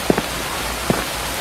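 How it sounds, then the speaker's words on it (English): Rain falls steadily in a Roblox horror game, a soft continuous hiss with a couple of brief, slightly louder drips or taps near the start and once in the middle. "Was it always raining? Yes. It was."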